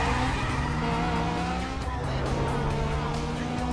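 A race car in the video game Need For Speed Most Wanted pulls away with a droning engine whine and tire squeal, a short, steady burst of revving and skidding.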